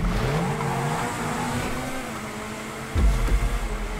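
A race car in GTA roars loudly, its engine droning and shifting pitch, then a sudden low thump and bumpy rumble as it hits a bridge, with brief tire noise.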